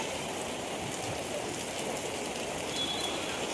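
Heavy Mumbai rain hisses as a dense, continuous wash, close and even in level, with no voices over it.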